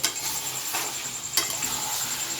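Chicken curry with spices, cooked down until nearly dry, fries in a pan. A close, steady sizzle carries brisk stirring and scraping strokes.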